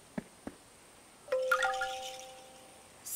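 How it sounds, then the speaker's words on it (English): Quiet doorbell chime in a cartoon about a noisy lion, a couple of faint taps followed by a soft ringing ding that fades away in near silence. "Is Zebby's doorbell broken? No. It's just too quiet"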